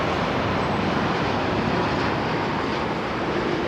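An Etihad Airbus A380 jet airliner arriving at London Heathrow, a loud, continuous broadband engine roar that holds steady throughout.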